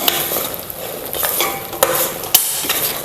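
Semolina being stirred into hot sugar syrup in a pan for rava ladoo, a close scraping, swishing stir with a few sharp clinks of the spoon against the pan and a faint sizzle underneath.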